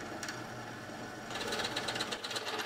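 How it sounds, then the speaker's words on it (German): A 3 mm bit drills the first stage of a hole with a drill, a steady whirring machine drone with a faint rattle that grows a little louder partway through, heard alone. "Die Bohrung erfolgt in mehreren Stufen,"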